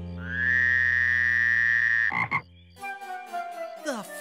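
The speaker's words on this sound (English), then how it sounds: "The frog made that noise?" A loud, sustained cartoonish frog croak holds steady for about two seconds, then breaks into a few shorter warbling croaks and squeaky tones.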